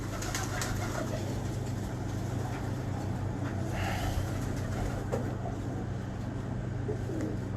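Pigeons coo softly and repeatedly amid steady background hum in a Pakistani pigeon-keeping setting, with a faint vehicle rumble and no one speaking.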